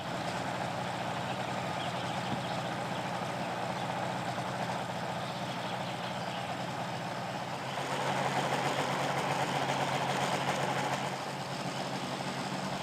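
The motor of a motorized hang glider runs steadily at a Siberian crane breeding site in the Oka Nature Reserve, a constant mid-level drone that swells slightly in the middle, with no talking.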